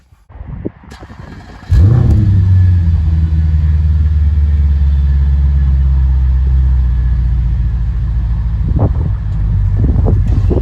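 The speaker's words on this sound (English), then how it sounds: "let's fire the car up" An Audi S5 4.2 V8 engine cranks and roars to life, then settles into a loud, deep, rumbling idle with a couple of brief revs near the end.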